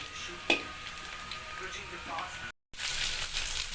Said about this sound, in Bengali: পেঁয়াজটা ফ্রাই হচ্ছে